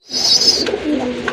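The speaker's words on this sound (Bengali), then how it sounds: "এটা হচ্ছে শ্যাডেল গোল্লা কবুতর না ভাই?" Shadel Golla fancy pigeons, a large, finely marked pair, cooing close by, a continuous low burbling coo with a brief higher chirp near the start and soft flutters.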